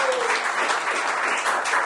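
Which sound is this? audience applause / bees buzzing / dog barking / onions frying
audience applause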